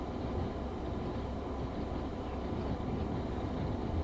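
Teesside Sprinter diesel train coasting on the Tees Valley Line in Train Sim World 2, a steady low rumble of wheels and cab noise, quiet and continuous.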